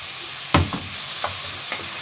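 Onions sautéing in butter, heard as a steady bright sizzle close by, broken by several wooden scrapes and clacks of stirring spaced through the stretch.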